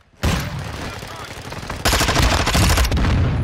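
Gunfire from the Vaznev-9K weapon in the video game Modern Warfare 2 starts abruptly and loudly, then rises into a rapid, heavier automatic burst for the final second and a half.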